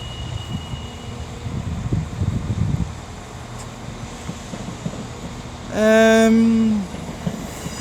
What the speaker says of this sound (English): 158824 coming in with a service from Holyhead.